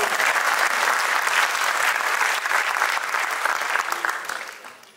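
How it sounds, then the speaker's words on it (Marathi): Sustained applause from a live audience at a Marathi poetry gathering, dense and steady, recognising a poet from Karnataka, then gradually fading toward the end. "कर्नाटकातून आलेल्या कवीसाठी तुम्ही कुठे टाळ्या वाजवल्या."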